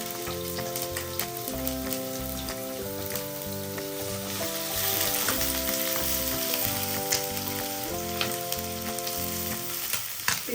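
Onion, chillies and garlic frying in hot oil after mustard seeds have popped: a steady, close crackling sizzle that runs throughout with no talking.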